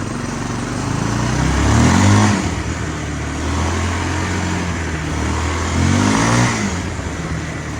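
A Kawasaki four-wheeler ATV with slipping clutches revs while being ridden. The engine rises and falls in two or three surging pulls, loud and close, with no voices.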